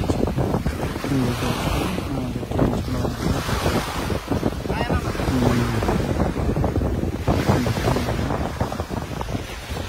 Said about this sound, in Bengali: কি পরিমাণ ঢেউয়ের স্পিড, বাতাস, সাগরের মিশ্র আইল্যান্ড রিসোর্ট